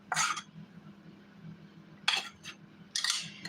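A utensil clinks and scrapes against a pan while chicken is mixed with gravy and spinach for a one-pan pantry meal, in three short, fairly faint bursts separated by quiet gaps.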